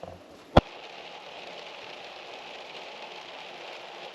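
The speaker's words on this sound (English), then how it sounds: "listen to the raindrops at the top of the van" Soft, steady patter of rain drumming on a van roof, with one sharp click near the start; no voices.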